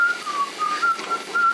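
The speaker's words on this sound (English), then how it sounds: "she whistled a tune from her childhood" A single person whistles a wandering melody, clear and fairly close, the notes rising and falling with short gaps between phrases.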